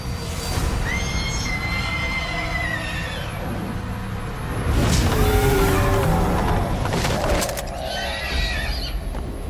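A horse or fire unicorn neighs in the video game UnMetal / MGSV, with several loud whinnies rising and falling in close succession over a steady background rumble, and a strong burst midway.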